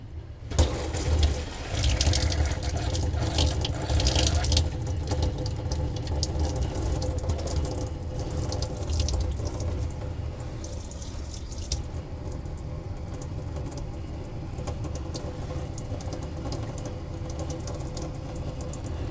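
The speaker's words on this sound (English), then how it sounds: "So let's turn the cold water on." Cold water runs steadily from a tap in a caravan into a sink, a continuous splashing rush. It starts with a brief gush and then keeps an even flow.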